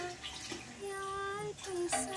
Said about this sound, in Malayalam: ആ ശർക്കര പാലിക്കകത്തേക്ക് തേങ്ങാപ്പാലിനകത്തേക്ക് ഒഴിക്കും